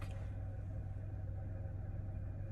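Steady low engine rumble from inside a moving car's cabin, a constant muffled drone with no speech.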